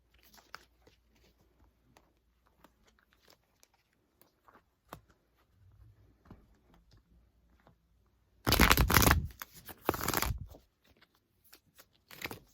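Tarot cards are shuffled in two brisk, close riffle bursts after a stretch of quiet handling clicks and rustles.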